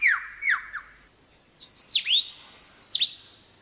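A bird that can mimic the calls of at least twenty other species runs through a string of varied calls: sharp downward-sweeping chirps, then bright rising whistles and trills, clear and fairly close, in short separated bursts with no voices.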